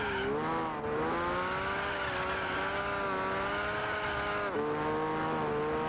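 Car tires squealing and gripping through a corner in Gran Turismo 6, a steady tonal tire whine over a droning engine, sustained and close for the whole stretch with a slight pitch dip near the end.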